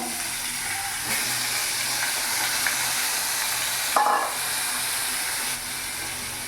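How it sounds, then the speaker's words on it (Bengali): Potatoes frying in a pan, a continuous soft sizzle and hiss with a brief louder crackle midway, close and steady with no talk. "আলুটাও দিয়ে দেবো ভেজে নেবো আলুটা"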